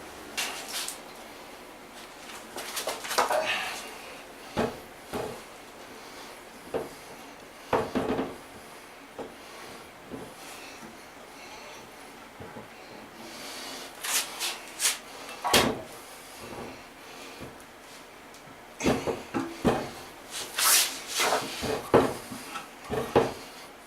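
A toilet is set into place and its mounting bolts fitted, giving scattered knocks, porcelain thuds and light scraping with quiet pauses between them.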